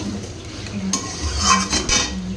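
A spoon stirs thick mutton curry in a pot over low gas, giving soft scraping and occasional clinks against the metal alongside a faint sizzle, close and fairly quiet with no talking.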